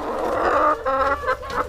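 A hen clucks and squawks in a few quick, agitated bursts, close by and fairly loud, on an organic farm in Mexico, with no talking.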